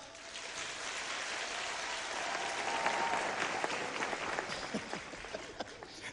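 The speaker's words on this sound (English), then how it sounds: "I want only the girl child to clap because there is a girl child here." Girls in the audience clapping at a first graduation ceremony, a fairly even crowd of hands applauding at moderate distance, thinning toward the end into scattered separate claps.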